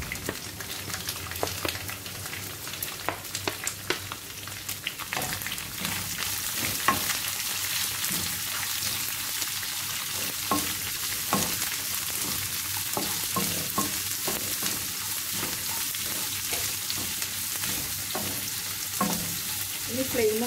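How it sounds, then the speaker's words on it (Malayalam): Sliced onions sizzling in a pan with coconut pieces for a Kerala beef fry, a continuous close hiss with scattered scraping stir strokes and light clatter, no voices. "ഇനി ഇതിലേക്ക് ഞാൻ രണ്ട് ചെറിയ സവാള നീളത്തിൽ അരിഞ്ഞു വെച്ചിരിക്കുന്നതാണ്,"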